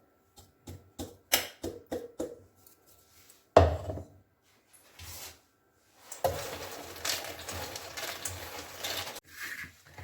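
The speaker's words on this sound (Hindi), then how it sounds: "ऐसे ही सारे मखाने जो बचे हुए हमारे पास, उनको भी हम पीस लेंगे।" Dry fox nuts (makhana) being ground into powder in a kitchen, heard as a series of short, sharp pulses followed by a longer, louder stretch of continuous coarse grinding noise, close and without talk.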